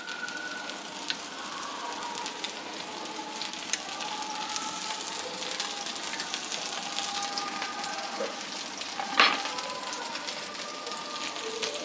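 Maida dosa cooks in plain oil on a dosa griddle, a continuous fine crackling sizzle like light rain that stays even and close, with one brief louder tap near the end. No voices.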